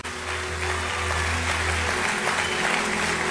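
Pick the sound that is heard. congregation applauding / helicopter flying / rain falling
congregation applauding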